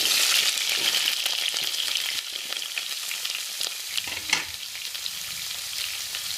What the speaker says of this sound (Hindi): अब हम इसमें कटे हुए कद्दू डालेंगे।